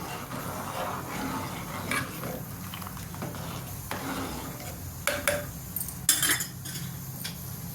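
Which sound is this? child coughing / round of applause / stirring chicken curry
stirring chicken curry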